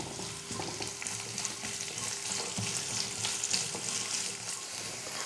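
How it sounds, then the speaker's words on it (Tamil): Sliced onion and garlic sizzle steadily in a hot pan for a Kerala-style chickpea curry, with soft stirring scrapes over a continuous, close frying crackle and no talk. "இந்த வெங்காயத்தையும் சேர்த்துக்கிறேன். எல்லாம் சேர்த்து ஓரளவுக்கு நல்லா வதக்கிக்கலாம்."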